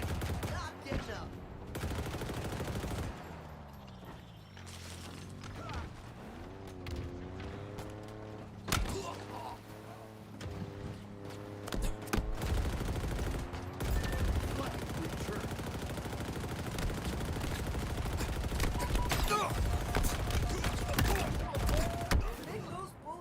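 Rapid bursts of automatic gunfire from a Halo multiplayer match, loud and near, repeat across the whole stretch over a dense game soundscape, with a mechanical hum in the middle and sharp crack-like transients. Game voice lines talk through parts of it.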